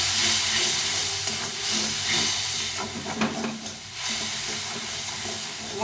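Spice paste with ginger and green chili sautéing with a splash of water in a hot pan, giving a continuous loud steamy hiss and sizzle with brief stirring scrapes throughout.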